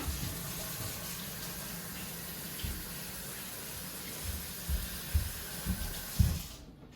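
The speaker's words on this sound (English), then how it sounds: "Give my hands a wash." Water runs steadily from a kitchen tap as hands are washed beneath it, a continuous close gush with a few soft splashes and bumps near the end before it cuts off.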